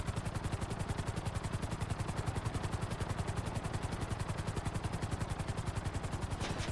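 A helicopter lands in a GTA roleplay game, its rotor producing a fast, even chopping pulse that holds steady and fairly loud throughout, with no voices.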